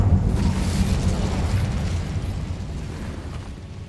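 Incendio fire spell cast in Hogwarts Legacy, a loud rumbling burst of flame that roars at the start and then sustains as a dense, crackling low rush, gradually fading over a few seconds.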